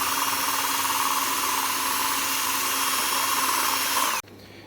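A power drill with a worn bit grinds into a coconut shell in a loud, steady, close whine that cuts off abruptly near the end, leaving a low hum and no talking.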